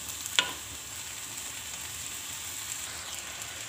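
Pastry filling frying in a pan as it gets stirred, a steady soft sizzle with one sharp scrape or clack near the start, otherwise even and unbroken with no talking.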